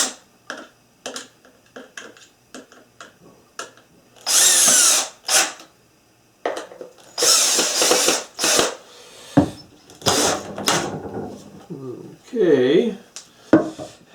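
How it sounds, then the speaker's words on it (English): A power drill whirs in several loud bursts, driving screws while assembling a toy excavator, separated by clicks, taps and handling noise, with a voice briefly speaking near the end. "I'm using this drill, put the screws in so it'll go faster."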